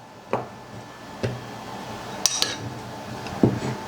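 A green bean salad being tossed with red wine vinegar, a few scattered clinks and taps of utensils against a bowl, spaced apart over a low steady room hum.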